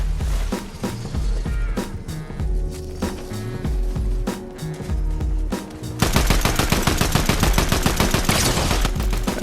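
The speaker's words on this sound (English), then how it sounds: "Take a couple shots for the guy down there." Rapid gunfire from the video game Fortnite, played in Zero Build mode at Brawler's Battleground: bursts of loud, close shots over a busy game soundscape, turning into a dense, steady automatic stream in the last few seconds.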